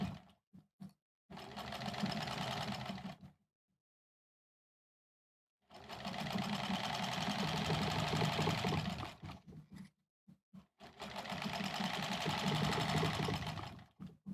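A sewing machine stitching quilt blocks runs in three sustained bursts with brief stops and a long silent pause between them, loud and close, with no talk.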